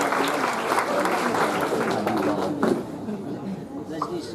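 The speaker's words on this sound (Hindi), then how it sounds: "उनके लिए भी जोरदार ताली" An audience at an annual cultural program gives loud applause, a dense crowd of clapping that holds steady and then eases off slightly, with voices mixed in beneath it.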